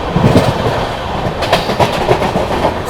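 The Vikramshila Express rushes along at high speed, a loud, steady roar of wheels and rolling stock with a faint rhythmic clickety-clack, and no voices.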